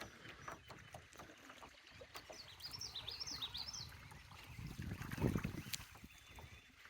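Canoe paddling on a calm lake under overcast skies, faint rhythmic water swishes and drips close by, with a bird trilling in the distance and light wind.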